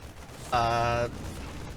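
Photon cannons firing in a StarCraft match: a half-second burst of rapid, buzzy energy-weapon fire stands out loudly over quieter game ambience.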